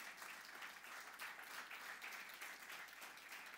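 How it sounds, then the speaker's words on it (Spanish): Congregation applauding during a Spanish-language church service, a sustained wash of many hands clapping at even volume, fairly distant and without speech on top. "Alguien que le dé un buen aplauso al Señor en esta hora"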